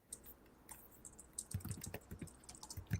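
Computer keyboard typing, a run of quick irregular clicks and taps that builds to a busier, denser patter in the second half, fairly close with no voices.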